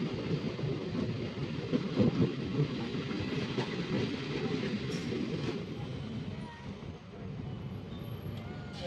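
A passenger train on the Murkongselek–Ledo route in northeast India, heard from on board after leaving a station. It makes a steady, loud rumble with rhythmic wheel clatter and a faint hiss that carries on throughout.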